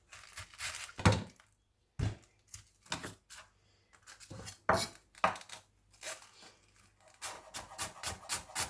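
Knife chopping cabbage into thin slices on a cutting board for chicken spring rolls: close, sharp, irregular thunks in quick bursts separated by short pauses, with no voices.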